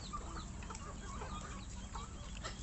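A turkey clucking softly at close range over a steady rumbling background, with a few short throaty calls scattered through the brief moment.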